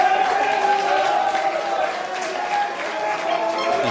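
Crowd noise at a college intercollegiate football match, a steady roar of cheering and clapping that holds for the whole stretch with a commentator's voice mixed in.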